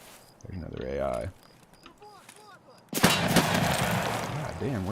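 Gunfire in the video game Escape from Tarkov, a loud burst of shots crackling from about the three-second mark to the end, after quieter stretches with someone talking.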